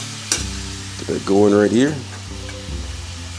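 Ground meat browning for a ragu, a continuous close sizzle and stir in the pan while someone talks briefly over it.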